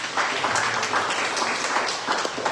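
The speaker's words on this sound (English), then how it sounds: "can we give a round of applause for them?" A crowd claps steadily, crisp hand claps blending into continuous applause at moderate loudness. No one speaks over it.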